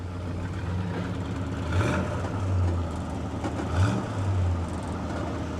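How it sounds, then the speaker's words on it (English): A 1960 Plymouth Fury with ram induction revs twice from idle, each rise and fall of the engine clear and close over a steady low rumble, with no talk. "Wow, Dieter, can you rev the engine for me, sir?"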